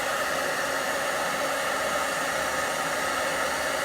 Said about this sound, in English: I'm just gonna use my heat tool now and emboss.